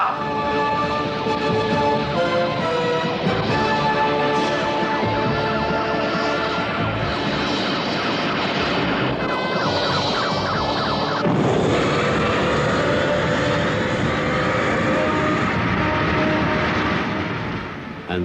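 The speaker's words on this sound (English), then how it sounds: "the reconditioned Bacchus 3 blasted off for her next encounter with destiny" The reconditioned rocket ship Bacchus 3 roars off at liftoff in a loud, sustained blast with rumbling engine thrust and shifting tonal whine, continuous for the full duration.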